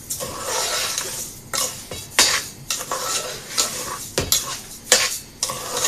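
Semolina and sugar being stirred together in a hot pan for egg halwa: repeated scraping, clattering strokes of a spoon against metal with a light sizzle underneath, steady and close, no voices.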